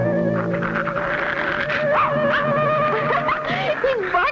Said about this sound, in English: He's barking at that awful-looking face.